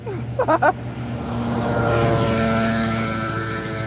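Mosquito spraying truck passing on a street, its engine drone swelling as it approaches and rolls by close, steady and loud after a brief tonal sound at the start.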